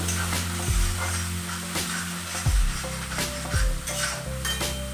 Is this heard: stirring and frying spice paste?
yes